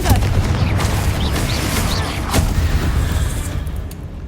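A fiery Confringo spell blast in Hogwarts Legacy, heard as a booming burst over a constant rumble of game ambience, with a sharp crack near the middle and no talk.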